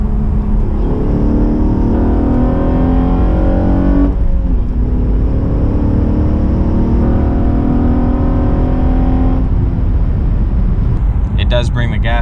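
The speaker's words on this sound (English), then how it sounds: "you just tend to press the throttle more to hear the air sucking in" A car fitted with a Takeda cold air intake revs loudly and steadily, a droning engine note with strong intake whoosh, dipping briefly midway before climbing again.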